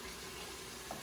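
Onions fry in a pan for a beef and vegetable quinoa dish, a soft, steady sizzle heard faintly and continuously, with no one talking.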